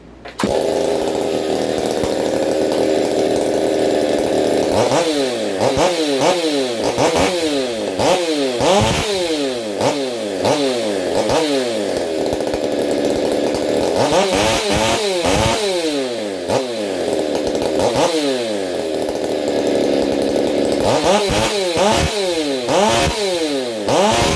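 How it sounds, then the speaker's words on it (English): A small, freshly tuned motorbike engine runs loud and close at a raised idle, its buzzing whine repeatedly revving up and dropping back in rapid, rising-and-falling bursts over the whole stretch. "it's got a little different sound to it now, and it's idling way higher than it was"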